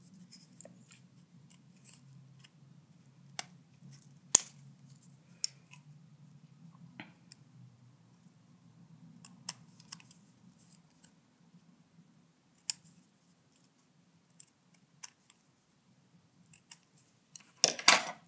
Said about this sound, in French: vous allez prendre vos ciseaux, couper la forme de l'œuf que vous venez de faire, sans couper le tout.